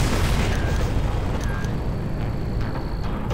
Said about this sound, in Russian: запустим одну ракетку примерно сюда